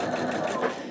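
A sewing machine stitches quilt block pieces together in a steady, close, continuous mechanical whir that lasts the whole moment without a break.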